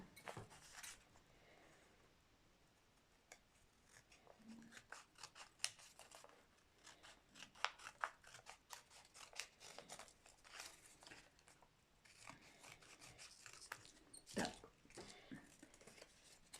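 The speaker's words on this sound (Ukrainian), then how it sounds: "розвертаємо його так, і вирізаємо доріжку таку." Scissors cutting a strip of paper left over from making a red paper poppy, quiet close repeated snips in uneven bursts with brief pauses and light paper rustle.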